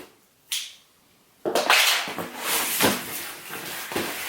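A shipping package is torn open up close: a quick rip, then a pause, then crinkly tearing and rustling of the packaging with a few sharper snaps, and no one speaking.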